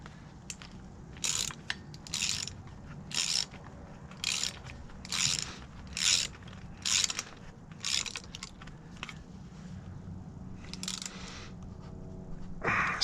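A ratchet tightens a bolt on a Ford Expedition/F150 steering stabilizer, giving about a dozen short bursts of clicking strokes in an uneven rhythm, close and moderately loud over a low background hum.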